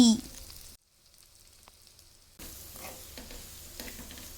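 Spices, salt, chilli powder, coriander and sesame powder are stirred into bitter gourd curry in a pan: a loud scrape, a near-silent gap, then soft stirring scrapes and a gentle sizzle.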